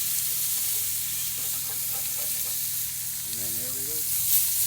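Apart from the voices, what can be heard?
steaks and onions sizzling on a grill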